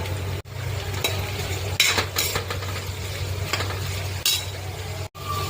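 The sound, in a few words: bitter gourd frying in oil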